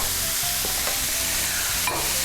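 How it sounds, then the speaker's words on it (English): Philly cheesesteak sloppy joe mixture sautéing in a pan, giving a steady loud sizzle with a few scraping stirs across the short stretch. "While that's sauteing"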